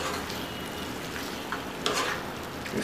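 Cream being stirred into a creamy fish curry in a pan, giving a steady soft sizzle with light scraping strokes throughout and a couple of brief louder stirs near the end, no talking.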